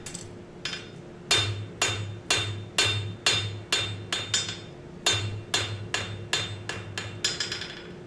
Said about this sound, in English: This is where the importance of good progressive forging comes into play.